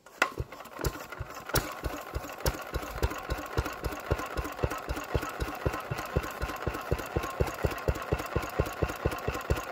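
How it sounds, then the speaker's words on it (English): An Enfield twin diesel engine chugs in a yard with a steady, regular train of thumping beats, several per second, at moderate level and close by, with no voices. "we are back with the Enfield diesel"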